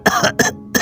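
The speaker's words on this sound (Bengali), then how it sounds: "বলে চশমাটা খুলে কাশতে থাকেন।" A man, an elderly railway gentleman who has just taken off his spectacles, lets out three short harsh coughs in quick succession, close and fairly loud with brief pauses between them.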